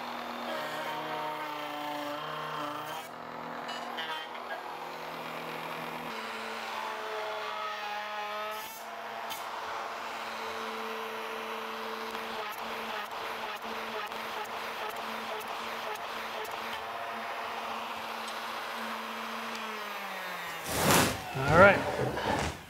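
A router rides on a sled across a desk top, flattening the wood in a workshop. It gives a steady, loud motorized whine with a droning hum that holds throughout, then cuts out near the end and leaves a few clattering bumps.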